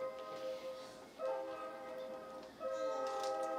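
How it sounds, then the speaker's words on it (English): A distant train passes in the night, its horn sounding in layered, sustained tones that swell and fade in several faint blasts with no talk over it. "I could hear the train in the distance now"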